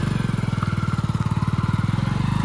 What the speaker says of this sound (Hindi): सुनो भाई आप बाइक चलाओ,